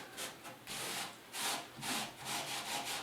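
Rubbing a lacquer-thinner-soaked rag over the finish on plywood, a series of rhythmic back-and-forth scrubbing strokes, close and fairly loud, with no talking.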